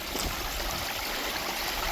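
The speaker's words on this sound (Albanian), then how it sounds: "Ja burimi ujit që rrjedh nga mali" A steady, close rush of spring water flowing from the mountain and splashing over rocks, continuous and even, in Albanian highlands.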